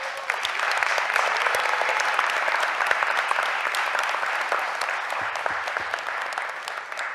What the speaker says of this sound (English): Give them a real big round of applause.